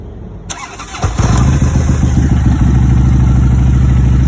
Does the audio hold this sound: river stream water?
no